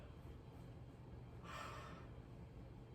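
One soft, breathy yawn during a gentle yoga session, a faint airy swell rising and fading about halfway through a quiet room.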